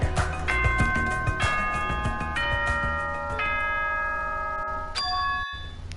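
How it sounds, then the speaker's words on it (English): A school bell chime in Danganronpa 2 Reload rings out as a sequence of sustained, ringing bell tones, each new note layered over the fading ones, sounding clear and alone for about six seconds. "Was that a school bell just now?"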